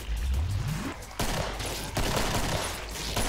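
Rapid bursts of gunfire in the zombie shooter Killing Floor, loud dense automatic shots with a low rumble, briefly dropping out before resuming under continuous combat noise.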